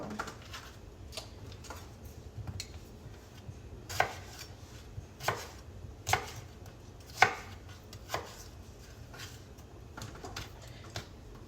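A knife chops potatoes into similar-sized pieces on a cutting board, sharp, distinct knocks landing roughly once a second over a quiet kitchen background, with no talking.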